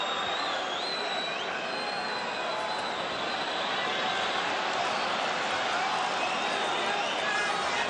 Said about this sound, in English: Crowd are trying to roar Kieran Clark on here.